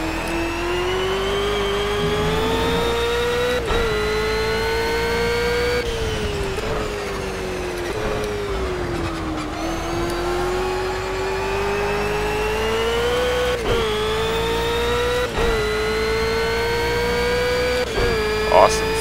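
A race car engine pulling hard out of turn 3 on a track, a loud close sustained drone whose pitch rises and falls with throttle and gear changes throughout.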